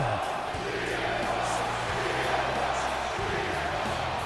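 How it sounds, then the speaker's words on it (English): Crowd in the WWE 2K24 wrestling video game roars steadily for a star's draft pick, a dense, continuous wall of arena cheering at moderate level with no break. "CM Punk, the crowd going wild as Punk is now heading his way to Monday Night Raw"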